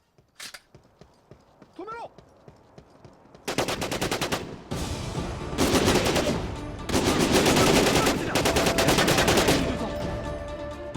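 AK rifle fire in the video game Syphon Filter: Omega Strain: a few sparse shots, then several loud, sustained automatic bursts with brief gaps between them, alone without talk.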